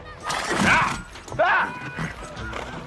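A horse in a classic Western film gives two loud, close whinnies, with hooves clip-clopping underneath, while a person talks over the sound.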